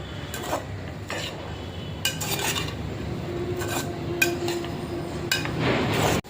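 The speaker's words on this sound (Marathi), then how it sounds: "ह्या ज्या सर्व भाज्या आहे मोठ्या गॅसवरती पाच ते सात मिनटं छान परतवून घ्यायच्या आहे" A spatula scrapes and clinks against a pan as vegetables are sautéed over high heat, repeated metallic scraping strokes over a steady background hiss, close by.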